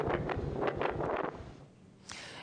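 Strong gusts of wind blow in Itajaí after a cyclone, loud buffeting roars that pulse repeatedly against the microphone and then drop away briefly before another burst.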